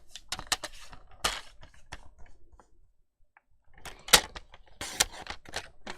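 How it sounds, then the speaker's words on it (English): Paper trimmer cutting card stock in a papercraft setting, a run of sharp close clicks and slicing snaps, with a brief quiet gap before more distinct cutting sounds; no talking. "whilst I'm here with the trimmer out, I'm just going to trim this to 3 7/8 by 3 7/8."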